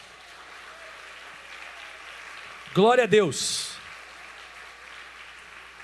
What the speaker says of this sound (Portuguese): Aplauda bem forte aos céus.